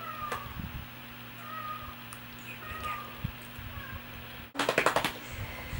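A small orange cat meows faintly a few times over a steady low indoor hum, followed by a brief burst of louder rustling noise near the end.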